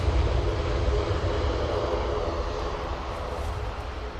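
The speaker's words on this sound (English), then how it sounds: "Got Logan Air coming on now in the prop" A Loganair propeller aircraft at Manchester Airport drones with a loud, steady engine roar that fills the whole stretch and fades slightly toward the end. No one speaks over it.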